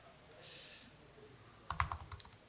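Quick bursts of typing clatter on a computer keyboard, a cluster of crisp key clicks arriving after a quiet pause, recorded close and fairly soft in a demo setting.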